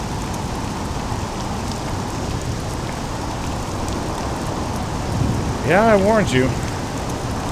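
Steady rain hisses throughout as a continuous wash of noise, with a short spoken line over it near the end.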